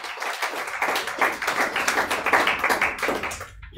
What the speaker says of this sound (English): Give him a hand clap, amen.